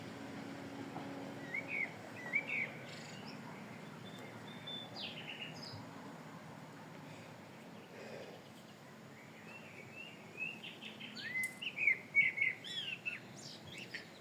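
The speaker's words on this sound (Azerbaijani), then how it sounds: "Bülbülün səsi adamın motivasiyasını yüksəldirib, pozitiv enerji ötürür." Nightingale song in the open: bursts of bright chirping phrases and trills come and go, some near and some farther off, over a low steady outdoor background.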